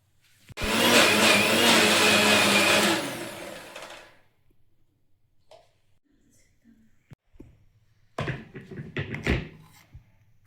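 A kitchen blender grinds green chilies with coriander leaves in a loud, steady whirring burst lasting a few seconds, then stops, leaving quieter clinks and handling noises.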